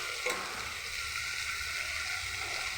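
A paste of tomato, ginger, coriander powder, cumin powder and red chili powder fries in a pan for a paneer dish: a brief clatter, then a soft, steady sizzle.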